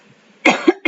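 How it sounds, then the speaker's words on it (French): Two close, loud coughs follow a quiet moment, an abrupt hacking burst and then a second shorter one, from a woman irritated by incense smoke. "je vais tousser un petit peu"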